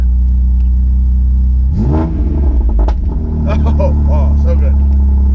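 A BMW M4 with an aftermarket exhaust is started after sitting since November and revved, a deep close rumble swelling into a sharp rising rev and settling into a loud idle.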